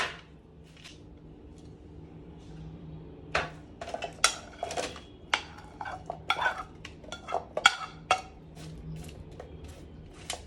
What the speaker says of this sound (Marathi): त्यामध्ये हे व्यवस्थित आपल्याला हे चणे पसरवून घ्यायचे आहे